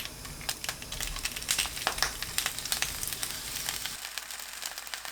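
Green onions frying in two tablespoons of cooking oil over low heat, making a close, gentle sizzle full of rapid small crackles and ticks throughout.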